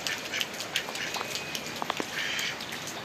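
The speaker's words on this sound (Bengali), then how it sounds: "একটা হাঁস আসতেছে।" A duck quacks several times in short, uneven bursts, fairly close, against a background of outdoor rain during a flood.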